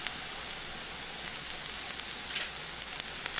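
Fajita meat with whole kernel corn and black beans sizzling in a pan, a steady fine crackle with scattered sharper pops, fairly soft and close, no voices.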